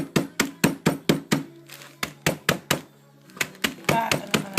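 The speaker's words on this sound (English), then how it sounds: "I've got this little hammer here that I'm just going to gradually break them up" Sharp, repeated blows of a small hammer crushing pecans in a bag in quick succession, a pause with a low hum, then another burst of rapid strikes, close and loud.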